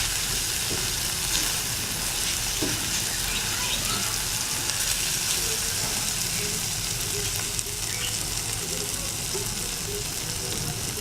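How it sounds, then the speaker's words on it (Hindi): Minced beef keema frying on a tawa, a loud continuous sizzle with occasional stirring scrapes, close and steady throughout. "इस तरीके से इसको साथ साथ भूनते रहना।"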